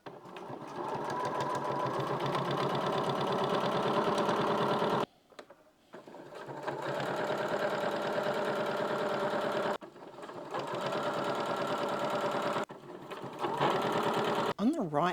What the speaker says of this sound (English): Needle down and just sewing it and keeping that edge at the edge of the fold.